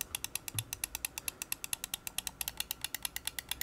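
A Razer Viper V2 Pro mouse button is clicked in a fast, even series of close, crisp but slightly muted clicks with nothing else heard.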